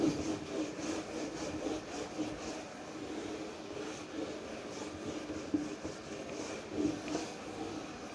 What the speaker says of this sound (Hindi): चलो इसको रब कर देते हैं।